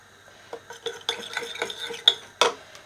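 Whisking olive oil with wine vinegar in a bowl for an artichoke vinaigrette: a series of light, close clinks and scrapes of a utensil against the bowl, irregular and fairly quiet, ending with a couple of sharper taps.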